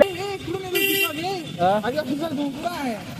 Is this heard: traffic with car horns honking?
yes